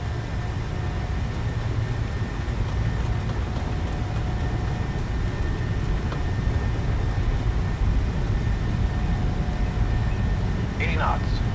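The jet engines of a Norwegian PMDG 737-800 in Microsoft Flight Simulator 2020 roar in a steady, dense, loud rumble through a takeoff roll out of Bergen or Oslo, with muffled cockpit voices beneath.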